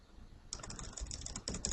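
Computer keyboard keys clatter in a quick, steady run of close clicks for over a second, with a brief pause and a final burst of keystrokes, all without talk.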